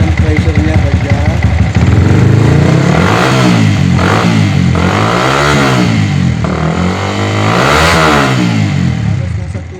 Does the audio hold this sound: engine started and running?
yes